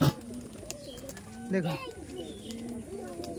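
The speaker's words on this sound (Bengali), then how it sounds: "খুব অ্যাগ্রেসিভ পিজন্স।" Madrasi pigeons coo softly in low, rolling murmurs close by, mixed with faint chirps, while someone speaks over them.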